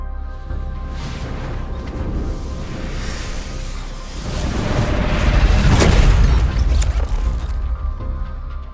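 Sci-fi antimatter weapons firing in a video game, heavy booming blasts with whooshing bursts that swell louder midway and stay loud to the end, with no talk over them.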